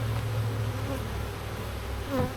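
Honey bees buzz around an open hive during a summer inspection, a dense, steady hum close to the microphone, with one louder bee passing near the end.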